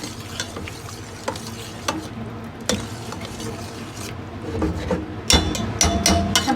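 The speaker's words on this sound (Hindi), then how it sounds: "बैंगन तैयार हो चुके हैं, अब इसमें आलू डाल देंगे जो मैंने निकाले थे।" Potatoes tipped into a pan of cooked, mashed eggplant on the stove, giving a steady oily sizzle with stirring scrapes and a few sharper clatters of the spoon against the pan, louder near the end.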